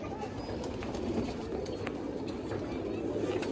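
Racing pigeons coo softly in a loft, with low repeated calls and faint rustling, while a person talks nearby.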